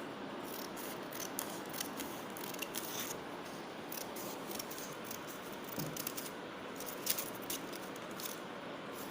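Scissors snipping through a sheet of paper: a close run of quick, crisp cuts with small pauses between them, no one talking.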